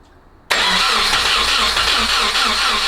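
A rebuilt Nissan KA24DET engine cranks and catches abruptly after a near-silent start, then settles into a loud, steady, rumbling run close by with slight uneven pulsing.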